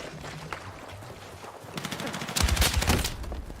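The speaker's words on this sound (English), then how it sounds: "I think I did just get shotgunned." Gunfire in the Battlefield 6 beta, with a steady crackle of distant shots that swells around the midpoint into a louder, dense burst of close, heavy blasts, shotgun fire among them.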